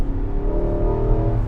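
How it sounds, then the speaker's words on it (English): The engine of a 2021 Nissan Armada Platinum, a 400-horsepower SUV, revving steadily during manual downshifts. It is a continuous low, sustained drone heard close and alone. "We also can shift manually, so let's do downshift, downshift, downshift,"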